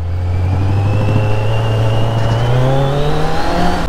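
Kawasaki Z900 motorcycle on its stock exhaust revving, a loud, close, continuous engine drone that climbs steadily in pitch as the throttle opens, with no pauses.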